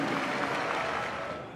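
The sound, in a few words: applause for Dr. David Horn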